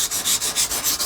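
A knife edge is drawn across a sharpening stone in quick rhythmic strokes, about six or seven gritty scraping passes in a second, close and steady with no talking.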